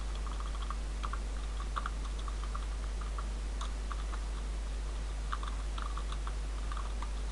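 Keys on a computer keyboard tap out an email address in quick, faint, irregular clicks over a steady hum of background noise.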